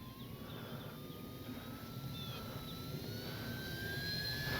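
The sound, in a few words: FMS Cessna Skylane 182 RC model plane flying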